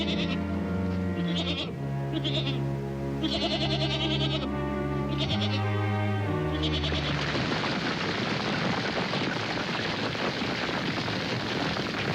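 Goats bleat repeatedly in wavering, nasal calls for several seconds, then the cries give way to a steady, broad rushing noise.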